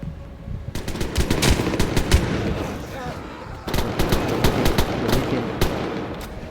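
Gunfire from a sniper rifle in a first-person shooter video game, several sharp cracks spread across the clip over a dense, busy game soundscape, fairly loud and close, with no one talking over it.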